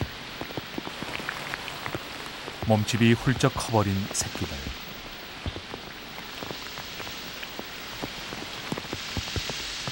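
Rain falls steadily on the Gapcheon stream habitat with a soft, continuous patter of drops, broken by a brief cluster of bird calls. A narrator speaks over it.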